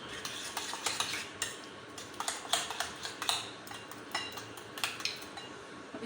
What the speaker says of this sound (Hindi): अब इसमें दही ऐड करते हैं, इसे अच्छी तरह से मिक्स करते हैं।